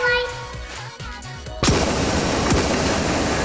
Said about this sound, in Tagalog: Ang ingay ng baril eh.